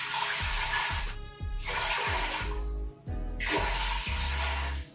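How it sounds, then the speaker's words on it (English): Water pours into a pot in steady, rushing streams with a few short breaks, close and fairly loud, like liquid splashing into a vessel. "I'm going ahead to add a drinkable water to the pot."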